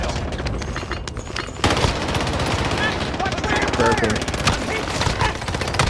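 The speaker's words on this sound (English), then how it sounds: "Someone's got a minigun." A minigun rattles in a video game, a dense unbroken stream of rapid fire that swells louder partway through, with other gunfire and explosions around it and a brief spoken word over the top.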